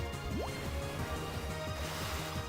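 In a Pokémon battle game, Kyogre's rain-boosted Water Spout attack plays as a dense, splashy gush of watery effects. Repeated swooping pitch bends run through it, steady and loud, with no voices.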